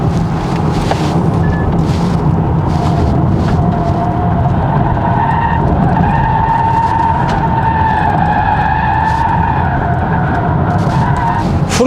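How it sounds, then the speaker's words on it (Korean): Steady broadband road and tire roar fills the cabin of a 2024 Polestar 2 Single Motor Long Range on the move, constant and fairly loud throughout with faint wind hiss above it and no talking. "작년에 시승했던 차보다 외부 소음이 들어오는 거 이거는 조금 더 크게 느껴지네요"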